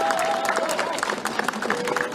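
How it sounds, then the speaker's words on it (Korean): Audience applause welcoming a student speaker, Park Min-woo, at a Korean voting-encouragement event, a moderate crowd clapping steadily throughout, with some voices and cheering mixed in. "여러분 큰 박수로 환영해 주시기 바랍니다"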